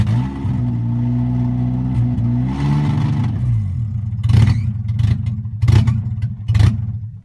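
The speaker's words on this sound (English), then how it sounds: "If I just leave it, sometimes it does this brum, brum, brum, like several times." A Nissan KA24DE engine idles roughly and surges, its low hum rising and dropping in several uneven swells before a few sharper revving bursts near the end, heard close with no talking.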